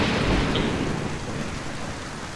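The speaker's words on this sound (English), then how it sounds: "A little rainy out here, eh?" Steady, dense rain and rolling thunder from a modded Skyrim playthrough, heavy and continuous throughout with no voices over it.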